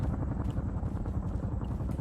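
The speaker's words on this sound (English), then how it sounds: "A helicopter's flying right over Castor." A helicopter flies overhead during squad training outdoors, its rotor producing a steady low chopping rumble that is fairly faint and continuous with no talk.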